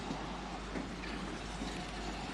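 A model train runs with a continuous low rumble and rolling rail noise, steady and moderately faint.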